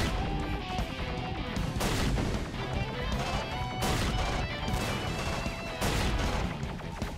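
Bombs explode in Dogfight: A Sausage Bomber Story on Xbox Series X, a dense run of crashing blasts and impacts over steady game noise and music, with several sharp bursts through the stretch.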